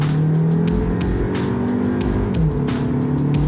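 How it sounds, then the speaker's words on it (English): An Audi Q2 40 TFSI 2020 with a 2-litre turbo and 7-speed dual-clutch gearbox pulls away hard from standstill, its engine note rising loudly and steadily from inside the cabin, with no talking. "how does this Q2 with its 2-litre turbo perform off the mark?"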